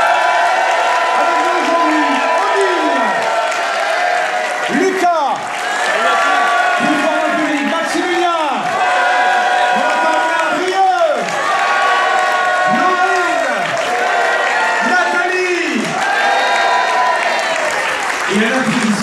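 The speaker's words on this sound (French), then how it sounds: "Attention pour un applaudissement avec beaucoup de voix." A France 2 studio audience applauds loudly and continuously, with many voices cheering and whooping in repeated rising calls layered over the dense clapping throughout.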